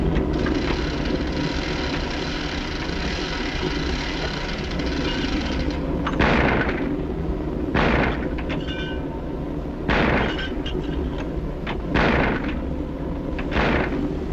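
Anti-aircraft guns fire a series of heavy, booming blasts, roughly every two seconds in the second half, over a steady loud rumbling roar.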